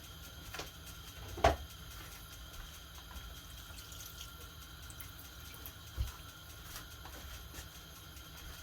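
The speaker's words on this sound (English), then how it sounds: "I'm going to add more water." Water poured steadily into a cooking pot of cooked rice and sauce for a canned pork chop meal, a faint, continuous wash with a couple of soft knocks, no voices.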